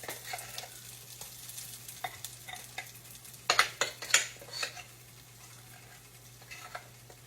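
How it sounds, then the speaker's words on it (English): Pancake batter frying in a pan, with a soft continuous sizzle broken by light scraping and clinks of a utensil against the pan, a few louder taps in the middle, no voices. "You take your batter and you put it in the middle of the pan."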